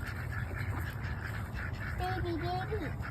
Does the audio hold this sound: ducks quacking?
yes